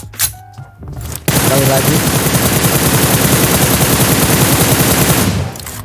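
Dense, continuous automatic gunfire from the shooter game PUBG Mobile, a loud, rapid burst sustained for about four seconds after a brief spoken phrase at the start.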